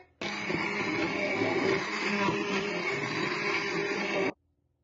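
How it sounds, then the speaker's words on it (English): An immersion blender purees soup in a pot with the gas turned off, a steady loud whirring drone that starts abruptly, holds for about four seconds, then cuts off, with no voices. "I turned off the gas before I used the immersion blender"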